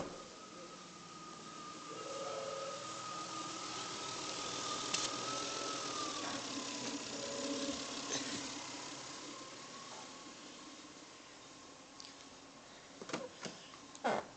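A Lexus car engine running steadily after a restart, a faint, even hum with a tone that dips slightly midway, ending with a few brief clicks and knocks and no talk.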